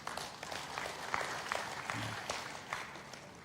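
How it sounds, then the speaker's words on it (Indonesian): An audience in church applauds, a soft, fairly distant clapping that holds steady throughout with no talk. "Tepuk tangan Tuhan kita."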